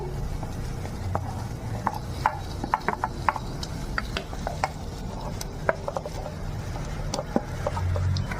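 Potatoes stirred and fried with spice paste in a pan for a tilapia fish curry with potato and eggplant: a steady low sizzle under repeated sharp scrapes and clicks of a spoon against the pan, with no talking.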